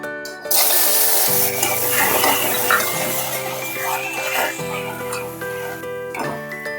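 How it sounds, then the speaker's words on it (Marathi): Tomatoes roast in a pan for spicy misal, making a continuous loud sizzle and stirring sound beneath steady tonal background music. "टोमॅटो भाजून घेऊ थोडेसे।"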